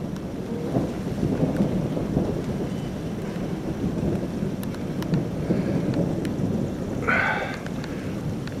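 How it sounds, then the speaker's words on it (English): A Phoenix thunderstorm: steady low rumbling roar with a hiss of rain throughout, swelling now and then like distant thunder, and a brief higher chirp near the end. "It's starting to rain."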